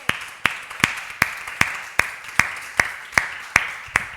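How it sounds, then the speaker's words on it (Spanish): A church congregation claps in a steady, evenly spaced rhythm during a worship service, about ten crisp claps at a regular pulse over a few seconds with no talking. "¿Le damos un aplauso al Señor?"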